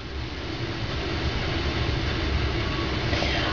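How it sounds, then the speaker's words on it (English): A tea kettle of water warming up on the stove, a steady broadband rushing hiss with low rumble that holds at an even level throughout, alone without talk. "The sound that you hear in the background is the tea kettle with water warming up."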